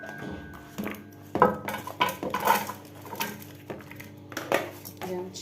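A metal baking tray and its lid clatter as they are handled up close, giving a run of bright clanks and scrapes in uneven bursts.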